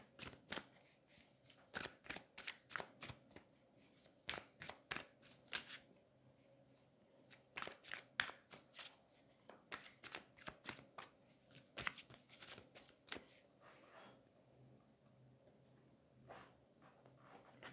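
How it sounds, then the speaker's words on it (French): Tarot cards handled and drawn: quick bursts of crisp card flicks and riffles recur in clusters, close-up and soft, with quiet pauses between them and no speech. "Je vais prendre 4 autres cartes."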